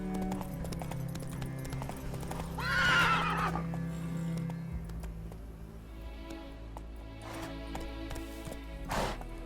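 A horse in The Witcher 3 gives a loud whinny, then another shorter one, over steady clip-clopping hooves and faint in-game ambience.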